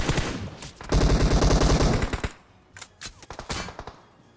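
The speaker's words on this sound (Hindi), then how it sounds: "और कोई दूर से भी गोली चला रहा है।" Rapid bursts of video game gunfire fill the first seconds in a dense automatic stream, then give way to scattered, quieter single shots fired from a distance.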